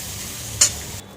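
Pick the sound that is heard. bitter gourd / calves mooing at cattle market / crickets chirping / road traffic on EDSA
bitter gourd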